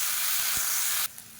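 Chopped tomatoes dropped into a pan with a teaspoon of hot oil, a broad close sizzling hiss that runs steadily for about a second and then abruptly drops to a quieter simmer.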